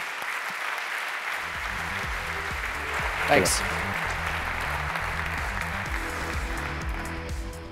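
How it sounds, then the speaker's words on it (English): Conference audience applauding as a speaker comes to the stage at a JavaScript event, continuous clapping over a low background hum, with a short spoken thanks in the middle. "Can you give him a big round of applause"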